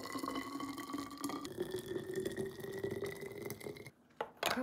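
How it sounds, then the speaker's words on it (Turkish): Boiling water, one litre, poured into a glass jar holding a cinnamon stick, a steady splashing trickle that runs continuously and close, with a brief break near the end before resuming. "Cam kavanozumuza bir de bir tarçın çubuğu atalım. 1 litre kaynar su dökelim."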